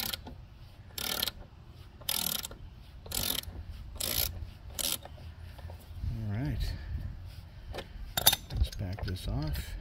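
A gear puller is ratcheted to pull a rusted blade adapter off a Cub Cadet lawn mower, making loud, evenly spaced bursts of rapid clicking, with a voice speaking between the strokes.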